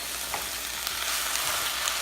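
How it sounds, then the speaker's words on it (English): Onions and garlic fry in a pan, a close steady sizzle with faint crackles and occasional soft stirring sounds, no talking. "the onions are starting to sweat a little bit"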